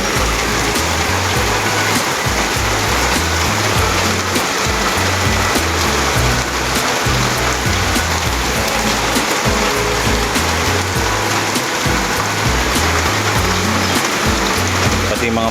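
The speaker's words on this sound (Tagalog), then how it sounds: "grabe ang lakas ng ulan" Heavy rain pouring during flooding, a dense, constant roar of water filling the scene without letup.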